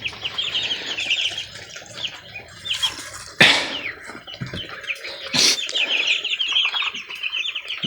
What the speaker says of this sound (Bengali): এখানে হচ্ছে কয়টা মুরগির বাচ্চা আর চীনা হাঁসের বাচ্চা আছে।